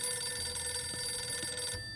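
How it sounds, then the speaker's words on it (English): A telephone rings in the survival game 60 Seconds! Reatomized, a steady electronic ring with sustained tones running nearly two seconds before cutting off abruptly. "we got a phone call"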